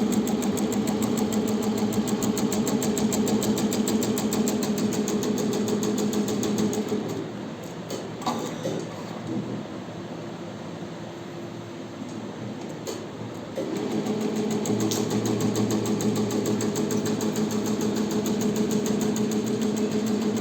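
A sewing machine runs steadily while stitching a neckline, giving a loud, continuous mechanical drone that eases off for several seconds midway and then resumes at full speed, close and without talk.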